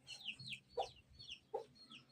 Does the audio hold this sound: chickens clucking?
yes